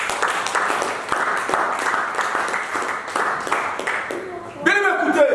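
A church congregation applauds steadily to acclaim Jesus, a continuous wash of many hands clapping with rhythmic accents for several seconds, before a voice cuts in at the end.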